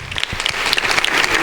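Audience applause for people invited up onto a stage, a dense crowd of hands clapping steadily with a few sharper close claps standing out, moderately loud throughout.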